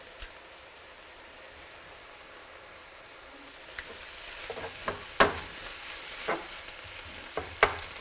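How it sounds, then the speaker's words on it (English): Chili powder and ground cumin fry with mince in a pan for a chilli con carne, a soft steady sizzle with a few sharp stirring scrapes and clinks toward the end, no voices. "This is the stage where it's important to fry your spices off as well"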